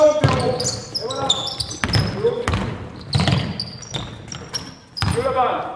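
A basketball is dribbled on an indoor court during a 3-on-3 practice game, with repeated loud bounces echoing around the room while players and a coach talk.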